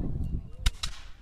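A historic firearm fires at an 1812 re-enactment: one sharp, fairly distant crack with a softer echo or second report just after, over a low murmur of background chatter.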